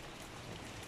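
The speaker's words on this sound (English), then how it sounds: "Too much rain, Arzan." Heavy rain falls in a dense, steady patter on surfaces, a brief even wash of drops without voices.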